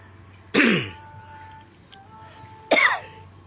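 Two sharp, close coughs sound about two seconds apart. Each is loud and short, with a quiet gap between them.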